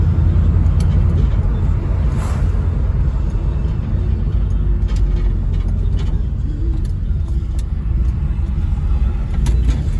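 Classic Mercury car rolling up with a low, steady engine rumble and road noise, close and continuous, with scattered faint clicks and knocks over it.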